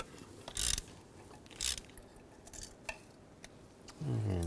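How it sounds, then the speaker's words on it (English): A 5/8 spark plug socket on a ratchet loosening a spark plug on a 2007-09 BMW X3, several quick metallic clicking bursts with clinks in between, close and fairly faint. "Now just take a 5/8 spark plug socket and loosen up the spark plug."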